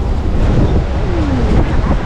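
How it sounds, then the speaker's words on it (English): Strong wind blows outdoors in Hawaii, a loud continuous rumble and buffeting across the microphone, with no talking. "Got a lot of wind."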